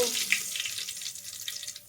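Hot oil sizzles in a pot while tempering for dal, a soft, steady hiss close by that stays faint and continuous under a little kitchen background noise.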